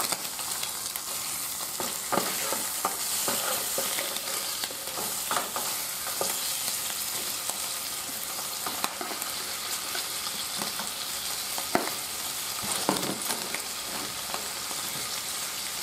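Steady sizzling of bacon frying in a pan, with occasional scraping and stirring clicks, close and continuous, no talk.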